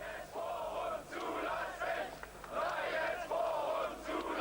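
A crowd of East German demonstrators in October 1989 chants in rhythmic, swelling bursts, the massed voices rising and falling in repeated phrases from a moderate distance.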